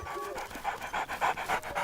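Close, loud panting from a dog, quick breathy pulses repeating in a steady rhythm with no other sound around it.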